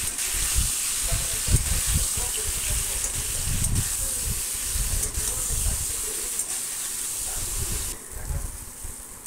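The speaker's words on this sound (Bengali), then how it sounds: "তো আমি এঁচোড় আলুটা হলুদ আর নুন দিয়ে ভেজে নিচ্ছি" Jackfruit and potato pieces frying in a pan with turmeric and salt make a continuous hiss and sizzle with low clattering stirring knocks underneath, close by and fairly steady, easing off near the end.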